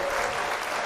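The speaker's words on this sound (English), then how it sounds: "We should give them some applause." Dense applause from a live-show audience greeting visitors from Norway, a steady wash of many hands clapping close by for under a second.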